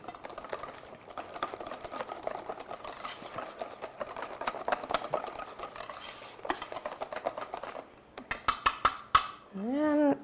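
Rapid, steady clinking of a whisk in a bowl of Christmas cranberry cake batter, a fast rhythmic scraping and tapping, followed by a few louder scrapes and a brief rising sweep at the end.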